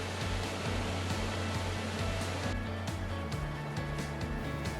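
Waterfall at Marble Canyon along a canyon trail, a steady broadband rush of falling water filling the whole clip without a break, with a faint low hum underneath.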